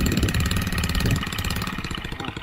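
A small carbureted engine runs unevenly right after starting, sounding weak and starved of fuel, with a close, steady rattling putter that sags partway through.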